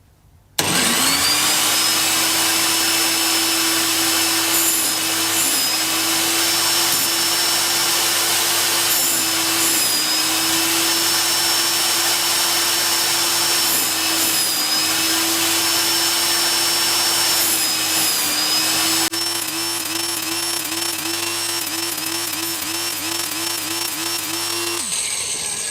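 A Makita circular saw blade sharpener grinding the teeth of an 80-tooth blade, a loud steady high-pitched motor whine with the grinding wheel catching each tooth in a repeating pattern, close and continuous, with no talking.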